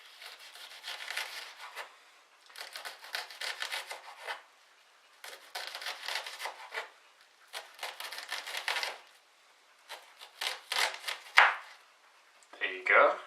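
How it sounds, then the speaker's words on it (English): A knife cuts and chops an onion in repeated bursts of quick, rasping strokes, each lasting one to two seconds and separated by short pauses, with a louder cluster of cuts near the end. "I've successfully learned how to cut the onion"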